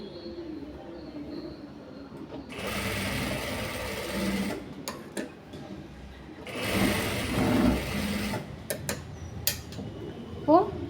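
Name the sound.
sewing machine stitching darts on a blouse front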